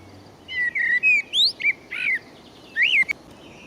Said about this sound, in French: Il y a tous ces moments agréables avec ces merles qui chantent, qui sont contents de leur journée et qui se déploient à pleine gorge.